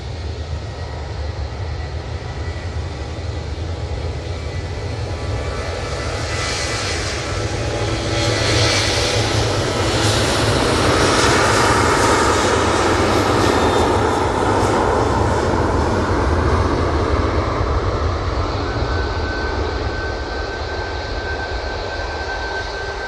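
Jet airliner engines spool up at Manchester Airport on the takeoff roll, a loud roaring rumble with a rising whine that swells through the middle and stays steady to the end, with no voices.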